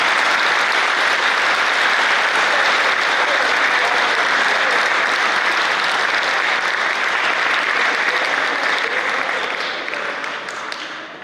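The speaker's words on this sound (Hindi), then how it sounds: "तालियों के लिए धन्यवाद" Dense, sustained applause from a large audience, steady and loud throughout, tapering off slightly at the end.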